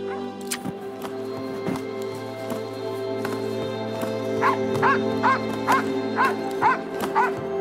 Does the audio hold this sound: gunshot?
no